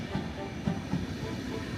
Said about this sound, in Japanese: ちなみにこれはウィーン方面の列車ですね